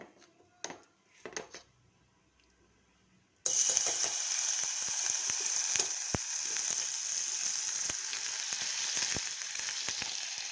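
Oil and butter heat in a pressure cooker pot on a stove, starting after a few quiet clinks as a sudden steady hissing sizzle that continues evenly, dotted with faint sharp pops and utensil taps.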